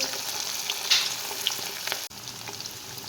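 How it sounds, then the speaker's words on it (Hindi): Chicken coated in spices and cornflour frying in hot oil in a kadhai, giving a loud, continuous hissing sizzle close by, with a sharp crackle early on and a brief dip near the end. "अब चिकन को हम इसमें रोस्ट करेंगे, जिसको मैंने मसाले और कॉर्नफ्लोर की कोटिंग की है।"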